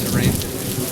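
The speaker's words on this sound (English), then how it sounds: "Looks like we're shooting in the rain." Heavy rain pouring on a film set, a dense, loud, continuous hiss of falling water with a low rumbling undertone, no voices present.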